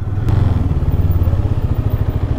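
KTM 390 Adventure motorcycle being ridden on a road trip, its engine giving a steady, close, pulsing low rumble throughout with no talking.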